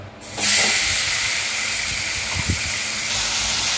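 Chicken pieces dropped into hot oil set off a loud, steady frying hiss that begins abruptly and holds constant, close up and with no talking.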